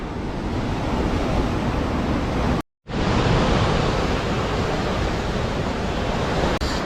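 Ocean waves at the seaside heard during a run, a continuous close wash of surf with steady wind noise, briefly cutting out for a moment before resuming.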